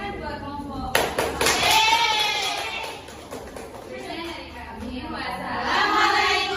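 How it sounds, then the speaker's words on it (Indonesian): Students in a classroom clap for a group, a short burst of applause that quickly fades into children's chatter and talking. "tepuk tangan buat kelompok."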